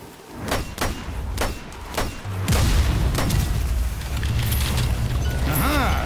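A grenade in Strange Brigade blasts with a loud, deep boom after several sharp, spaced thumps. A rumbling, crackling tail lingers over game sounds to the end.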